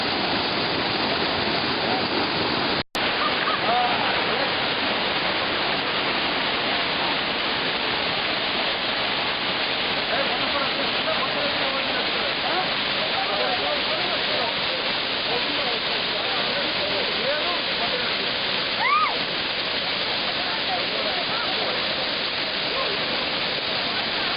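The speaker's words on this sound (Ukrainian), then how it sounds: "Зараз ми знаходимося біля водоспаду Кам'янка, трошки піднятися вверх." The Kamianka waterfall rushes in a loud, steady broadband roar heard up close and unbroken throughout, with a brief dropout early on and faint voices barely emerging beneath the torrent.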